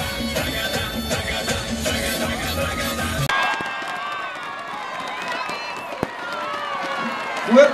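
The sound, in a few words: crowd applauding and cheering at Barranquilla carnival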